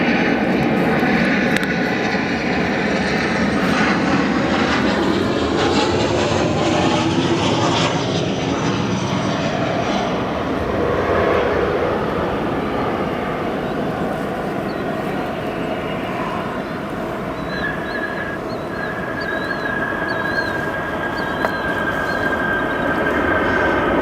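An American Airlines Boeing 737 arriving from Philadelphia lands at O'Hare, its loud, sustained jet engine roar rumbling broadband close by and easing slightly over time, with no voices present.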